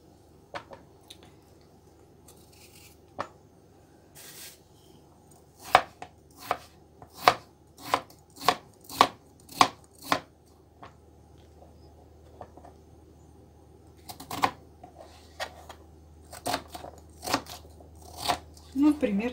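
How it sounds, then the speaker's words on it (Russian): Knife chopping potatoes into cubes on a cutting board for a mushroom vegetable stew, a run of sharp, evenly spaced close thuds in bursts with short pauses between. "Картофель буду резать кубиками."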